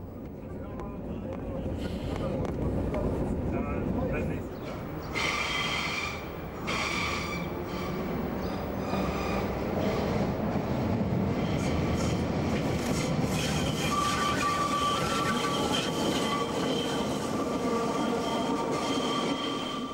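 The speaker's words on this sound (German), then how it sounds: "Durchfahrt im Bahnhof Nollendorfplatz." A Berlin U-Bahn train passes through Nollendorfplatz station, a loud sustained rumble of wheels and cars with rhythmic clacking and high squealing tones as it runs through the platform.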